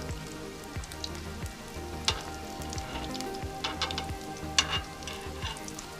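Ladyfish fillets browning in a hot pan give off a steady, close sizzle with bursts of spitting and crackle, occasional louder pops, and soft stirring or shifting sounds throughout.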